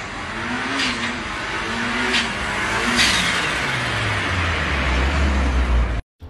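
A 1.3 litre Mitsubishi Colt with a turbo revs close up, its engine note climbing and falling in several pulls before settling lower and then cutting off abruptly at the end, loud and with no talk.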